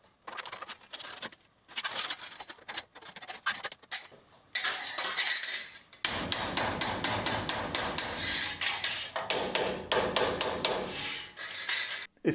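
A hammer strikes a metal drill press table used as an anvil in a small machining workshop, giving a quick series of sharp ringing blows close by, with a short pause partway through.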